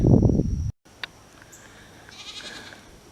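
A single loud, close goat bleat, then near silence with faint rustling and soft background noise.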